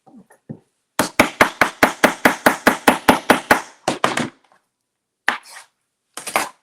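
Knife chopping food on a cutting board while making Ghanaian salsa: a fast, even run of about fifteen sharp, close chops, then a few scattered cuts after short pauses.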